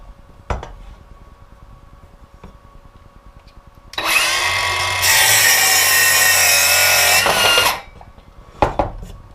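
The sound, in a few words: Milwaukee M12 cordless circular saw cutting 3/4 inch plywood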